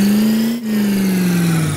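A highway patrol police car engine drones loud and near in one sustained rev, with a short dip early on, then a steady tone that gradually drops in pitch, with no voices.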